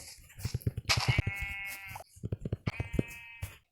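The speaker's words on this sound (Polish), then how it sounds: "tu są dwie owce" Two sheep in the Minecraft video game bleat in quick succession, each a bright wavering cry over a background of steady footstep-like thumps, fairly close and moderately loud.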